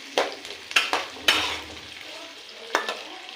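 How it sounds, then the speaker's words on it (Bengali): Four large onions sliced lengthwise fry in a pan for a chicken curry, a low steady sizzle punctuated by several sharp spatula stirs and scrapes against the pan, close by and without talk. "পেঁয়াজটাকে লাল লাল ভাজা পর্যন্ত, খাওয়া পর্যন্ত আমি ভেজে যাব"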